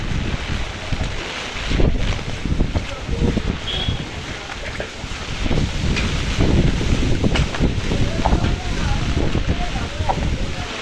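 Heavy cyclone rain during Cyclone Fengal pours down over flooded streets in Achchuveli, a dense, constant roar of water with strong wind buffeting the microphone throughout. A voice is faintly heard underneath.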